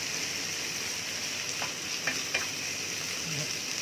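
Beef with a little chili stir-fries in a pan for basil beef, a constant close sizzling hiss with a few soft scrapes and clinks of the spatula.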